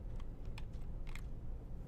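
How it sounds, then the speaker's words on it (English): Quiet typing on a computer keyboard, a handful of light, irregular key clicks over a steady low background hum, with no voices. "So if I just start typing"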